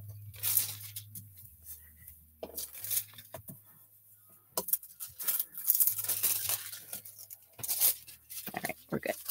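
Foil is pulled off a stamped card in a papercraft setting, giving short crinkly tearing bursts between quieter moments over a low steady hum, with a person talking in between.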